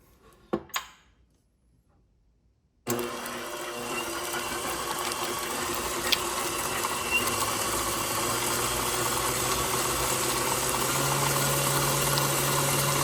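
A KitchenAid Professional 6000 HD stand mixer with a DC motor and an aftermarket flex edge beater runs after a couple of clicks and a brief silence. It gives a steady, whirring, motorized hum that stays even and builds slightly as it continues.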